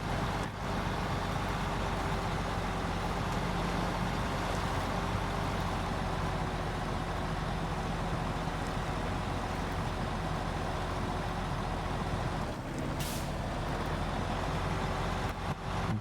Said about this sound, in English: So we just got some music and truck sounds.